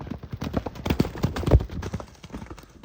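Horse hooves clip-clop on soft, muddy ground in an irregular, fairly close rhythm of thuds that fade toward the end, with no talking.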